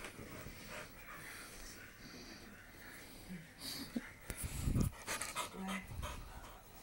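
A puppy pants close by in quick, soft breathy bursts mixed with snorts and little wheezy noises that grow louder and more frequent toward the end, with faint voices in the background.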